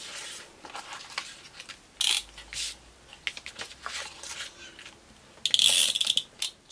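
A sewing machine runs a zigzag stitch across paper on a scrapbook layout in two short bursts, a brief one near the start and a louder rattling run toward the end, with soft paper handling in between.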